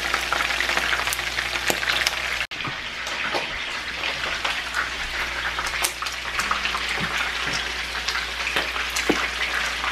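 Hot wings frying extra crispy in splattering grease on a stove give a loud, dense, unbroken crackle and hiss with sharp pops throughout and one brief break in the sound.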